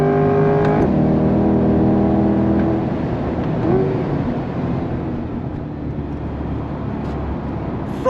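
A 2023 Chevrolet C8 Corvette 70th Anniversary Edition accelerating hard, its engine note climbing and then dropping as the Tremec transmission shifts, followed by a steady, loud, gritty drone of engine and road noise.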